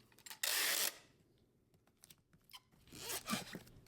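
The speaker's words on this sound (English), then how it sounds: "So I'm just taping over it." Packing tape is pulled off the roll with a loud, rasping rip and pressed over a shoe shipping box, followed by softer crinkling and a second stretch of tearing, all close and without speech.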